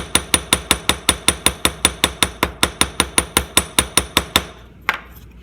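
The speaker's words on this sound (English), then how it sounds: "My personal favorite is with the curved edge of a hammer." A hammer's curved edge strikes brass sheet metal about twenty times in a quick, even rhythm of sharp, ringing blows, then stops, leaving one faint clink.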